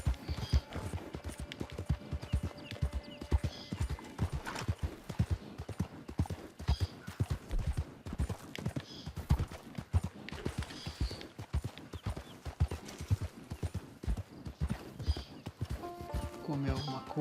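Horse hooves clip-clop in a steady, busy rhythm throughout a Red Dead Redemption 2 online session, with occasional whinnies and a voice talking over the game sounds.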